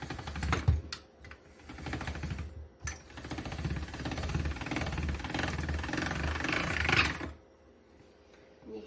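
Hand-cranked noodle maker clamped to a counter pressing homemade dough, giving a steady close-up grinding, clicking rattle that runs for several seconds, then stops abruptly near the end.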